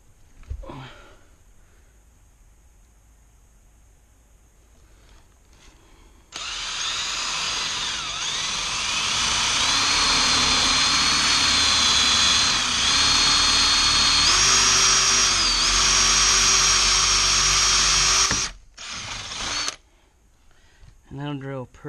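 A power drill boring a hole in a wooden bed frame board during a repair, a loud steady whine running for about twelve seconds with slight pitch shifts, then stopping abruptly, with quieter handling sounds before and after.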